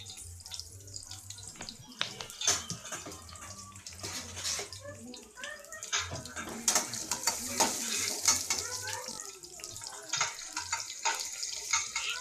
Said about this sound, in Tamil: சின்ன வெங்காயம் போட்டு நல்லா எண்ணெயில் வதக்கணும்